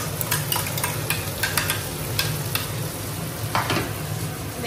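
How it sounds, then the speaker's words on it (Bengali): Red chillies and ginger-garlic paste sizzle steadily in hot oil in a home kitchen, a constant close frying hiss broken by several sharp crackles and spatters, with no voices. "গৰম তেল দিছোঁ, দুটা ৰঙা জলকীয়া আৰু আদা নহৰুৰ পেষ্ট।"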